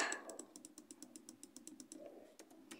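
Keys tapped one-handed on a computer keyboard, quiet, evenly spaced clicks at a moderate pace with brief pauses, close and alone.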